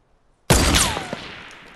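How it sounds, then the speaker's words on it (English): Gunfire in a Fortnite match: a sudden loud burst of shots after a half-second of quiet, then a ringing, whistling tail that fades slowly, with one or two fainter shots after. "this is the biggest gunfight"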